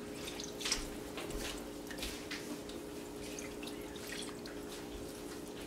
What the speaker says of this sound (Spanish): Ahora le voy a ir poniendo leche.